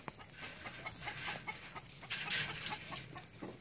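Chickens clucking in short, irregular bursts, close by, with a local rooster's call mixed in and faint farmyard noise underneath on a village farm; no talking.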